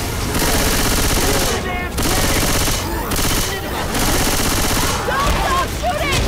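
Sustained, dense automatic gunfire from Left 4 Dead 2 rattles nearly nonstop, with brief gaps where the shooting drops out before resuming loud and close.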